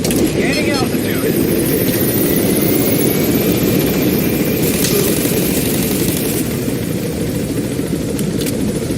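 Helicopter gaining altitude in the video game Metal Gear Solid V: The Phantom Pain on PS4, a loud, steady rotor and engine drone with constant whine that fills the scene throughout.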